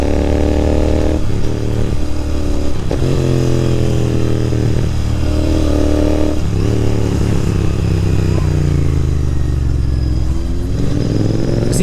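Royal Enfield GT 650 and Kawasaki Z900 motorcycles riding in Hyderabad, a steady loud engine drone with rising and falling revs and shifting pitch throughout, wind rush over it, no talk.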